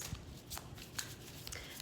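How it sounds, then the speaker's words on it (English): Tarot cards being shuffled by hand: a string of soft, papery riffling bursts and light taps, close and fairly quiet, with no talking. "I'll shuffle until I get the cards that I need."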